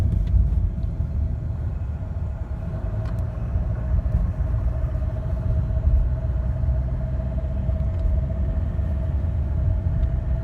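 Inside a Fiat Linea with a Dualogic gearbox in eco mode, a steady low engine and road rumble carries a faint constant hum throughout, with no distinct breaks.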